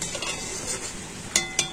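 Fried sago kurkure tipped into a large strainer to drain off oil, with a soft rustle followed by two short metallic clinks near the end.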